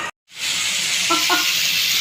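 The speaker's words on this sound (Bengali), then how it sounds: "আর কিছু মশলাটা এবার একটু খানিকটা ভেজে নেব।" Spices frying with onion and turmeric in hot oil, a steady close hiss rising after a short gap of silence, with faint clicks of utensils.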